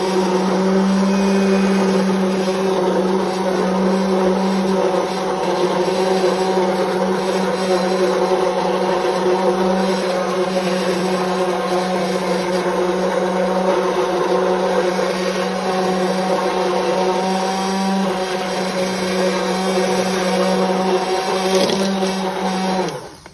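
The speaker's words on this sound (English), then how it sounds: "Now I get to use my favorite tool, this thing, immersion blender." An immersion blender purees potato soup in a pot with a steady, loud motor whir that runs unbroken for over twenty seconds before cutting off at the end, with no talking.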